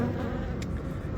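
Dense steady buzzing of a large honeybee colony swarming around a hive inside a tree being removed, close and continuous with no talk.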